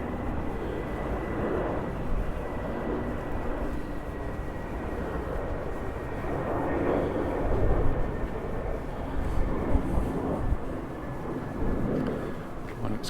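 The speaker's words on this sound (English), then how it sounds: "Plane coming in." A distant airplane coming in to land over Ciudad Jardin, Palma, Mallorca, drones steadily overhead with a low, broad rumble and a faint whine, the noise swelling slightly as it passes nearer.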